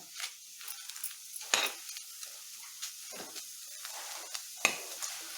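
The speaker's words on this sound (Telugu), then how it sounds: "ఇవి బాగా మగ్గేంత వరకు కలుపుకోవాలండి" Gongura pods, coconut, drumstick leaves and curry leaves being stirred in a pan for chutney: repeated close scraping and swishing strokes of a spoon against the pan, irregular and fairly quiet, with no voices.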